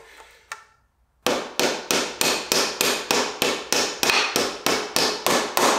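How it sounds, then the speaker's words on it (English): A hammer strikes a Kawasaki ZX6R track bike's rear axle to drive it out: after a couple of faint knocks and a pause, about seventeen sharp metallic blows land in a steady, fast rhythm, close and loud. "We'll try and smack it out with this."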